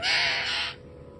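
Harsh crow-like cawing from a flock of birds, a loud dense burst of overlapping calls that cuts off abruptly after under a second, leaving quiet background.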